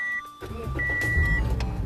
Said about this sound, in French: lorsqu'on démarre le moteur